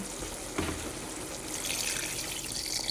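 Water running steadily into a pot of chicken tinola, a continuous splashing fill with a brief clatter near the start.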